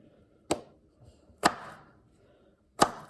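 A knife chops a vegetable into eighths for an Irish Guinness stew, giving three sharp, close thuds on a cutting board, spaced about a second apart, with quiet between them.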